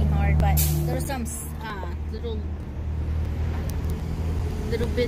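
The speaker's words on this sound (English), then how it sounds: "We have a lot of cars in the background." Steady road traffic with cars passing in the background during a paranormal investigation, a continuous low rumble throughout, with people talking over it.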